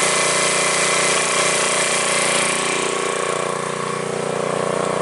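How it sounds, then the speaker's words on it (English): A sump pump sits in a bucket as a homemade trash pump, running with a loud, steady motorized drone that holds constant throughout, close by and with no talk. "All it is a sump pump that I've put in a bucket down here."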